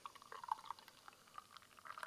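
Flensburger Pilsner beer poured from a small bottle into a small glass, a faint, close gurgle with light fizzing and trickling splashes over about two seconds.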